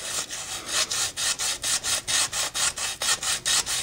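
Steady rhythmic scraping strokes as old gasket material is worked off an engine part from a 2008 Chevrolet Trailblazer, about a dozen even back-and-forth rasps, close and fairly loud with no talking.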